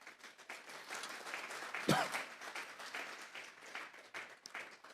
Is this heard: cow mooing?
no